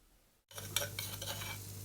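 After a brief quiet moment, food starts sizzling in a hot pan, with utensil scrapes and stirring sounds close by.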